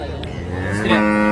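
A cow at the Sangola cattle market gives a deep, drawn-out moo that swells near the end, set against steady market murmur and faint voices.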